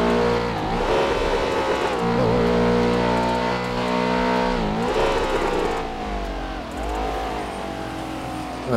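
A car engine in GTA 5 revs loudly at top speed, the pitch rising and falling through gear shifts in a sustained roaring drone.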